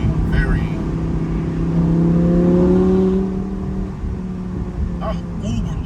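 An Audi R8 Spyder engine howls while driving, its tone swelling and rising to a loud peak midway before easing back to a lower hum, with talking over it.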